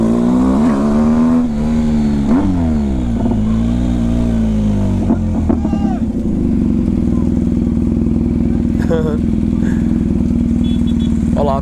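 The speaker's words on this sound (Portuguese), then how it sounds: "Ficar um pouquinho calado pra você escutar as zoada do escape." A motorcycle with a straight-pipe exhaust revs up and down several times close by, its exhaust roaring, then settles into a steady, throbbing idle.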